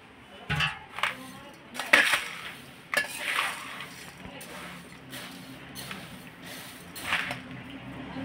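Thick fried poha being tossed and stirred into puffed rice for chivda, giving a series of light rustling, crunchy scrapes and clinks at an irregular pace, fairly close.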